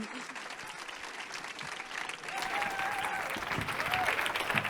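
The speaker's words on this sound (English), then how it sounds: "let's give her a big round of applause" Applause from a lunchtime conference audience at a panel talk about responsible meat, a steady wash of clapping that swells louder midway, with faint voices mixed underneath.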